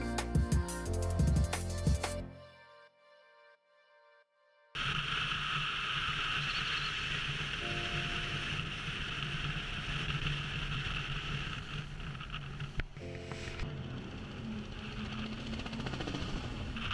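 A steady loud engine drone from a 900-horsepower motorboat at Horizontal Falls in the Kimberley, running continuously after a brief quieter gap at the start.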